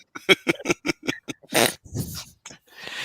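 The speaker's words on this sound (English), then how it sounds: "It's the dog barking in the background" A dog barks in a rapid series of short, loud, close bursts, then gives a few rougher, breathier growl-like sounds toward the end.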